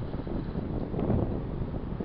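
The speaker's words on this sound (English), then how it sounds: "That wind's picking up a little bit. Nice little breeze." Wind blows across a lakeside park with a steady, soft broadband rush against the microphone and a slight swell midway, with no voices.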